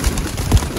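A Sialkoti pigeon, a champion hen among high-flying birds, gives a short low coo, with a few soft murmurs in a brief, fairly close moment.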